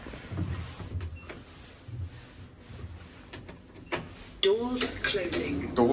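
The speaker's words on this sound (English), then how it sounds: "Doors closing." Doors of a 2007 Otis GeN2 lift in a hospital multi-storey car park slide shut with a soft mechanical rumble and clunks, while a person speaks nearby.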